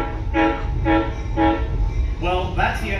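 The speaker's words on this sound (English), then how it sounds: "And four blasts on the horn." A heritage train at a Southern California railway museum sounds its horn in four distinct blasts, loud and close, the first three evenly spaced and the last somewhat longer, with a low idling rumble underneath.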